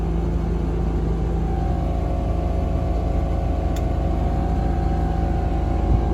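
A hay cutting machine running its header at 2800 RPM, a steady unbroken mechanical hum and rumble with constant tonal whine, close and even, with no talking.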